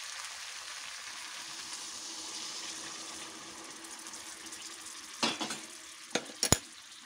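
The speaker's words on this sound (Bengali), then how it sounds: "এবার আমি জলটা দিয়ে দেবো" Hot water poured into a pan of browned chicken curry brings a soft sizzle and hiss, followed near the end by a few sharp clinks of a utensil against the pan.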